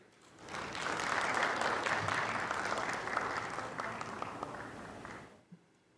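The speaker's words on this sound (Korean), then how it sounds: "박수로 맞이해 주십시오." An audience at a Korean Disability Day ceremony breaks into sustained applause that swells quickly, holds for several seconds, then fades out.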